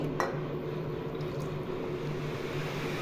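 Water is poured by the bowlful into a pot for guava jelly, a steady close splashing, filling rush with a low hum underneath and one small clink near the start.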